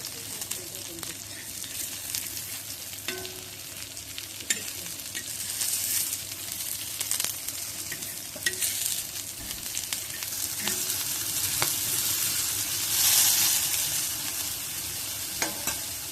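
Rava-coated mussels shallow frying in oil over a medium flame, a soft continuous sizzle with occasional gentle scrapes as the pieces are turned, close and steady, rising slightly toward the end.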